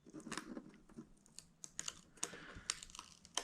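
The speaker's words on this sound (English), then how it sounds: "peel back the paper backing of this middle adhesive" Paper backing being peeled off an adhesive strip on the headliner of a 2023 Jeep Wrangler Rubicon 392, heard as close, quiet crackling and short tearing bursts in an irregular rhythm.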